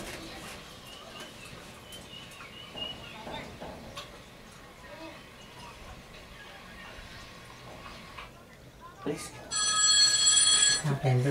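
Mobile phone ringtone at a cricket match, a loud electronic ring starting near the end after a stretch of background chatter and outdoor ambience.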